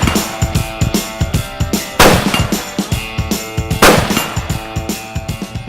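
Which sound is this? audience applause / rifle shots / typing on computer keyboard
rifle shots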